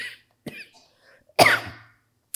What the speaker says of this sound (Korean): 이 기침은 지금 잠깐 제가 침을 삼키다가 어려움을 겪었다